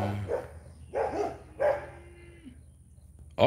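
Several dogs at feeding time let out a few loud separate barks in quick bursts, close by, with short pauses between them and a final bark at the end.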